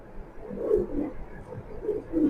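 Pigeons coo softly nearby in a pigeon loft, a few low, rolling coos repeating through the quiet clip with no talking.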